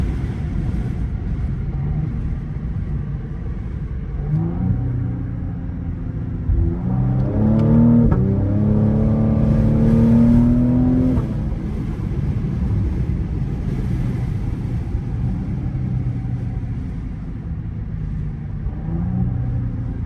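A Cadillac CT5-V engine accelerating in manual mode at about 50 mph, a low steady cabin rumble that swells into a rising, throaty engine note mid-clip before settling back to road drone.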